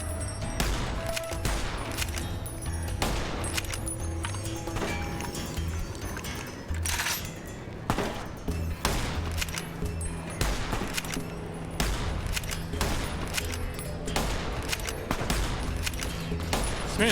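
Enemy gunfire in the video game Fallout: New Vegas, a steady stream of repeated sharp shots and bursts at irregular intervals, moderately loud, continuing throughout with a dense background.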